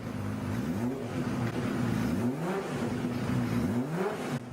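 A Honda CBX 1000 six-cylinder motorcycle engine revs hard through repeated rising and falling sweeps, loud and close with a smooth, dense exhaust note and no voices.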